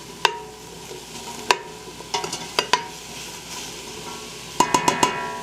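Onions cooking down on high heat in a pot for Creole jambalaya with shrimp, okra and andouille sausage, a steady low sizzle broken by several sharp clinks and scrapes of a stirring utensil against the pan, with no talking.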